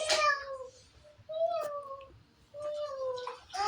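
A voice imitates a cat, giving a few drawn-out meows with short pauses between them, close and clear.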